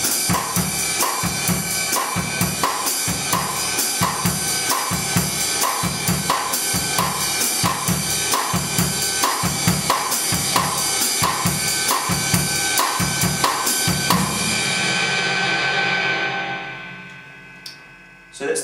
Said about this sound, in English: and I'm just going to play eighth notes on the ride cymbal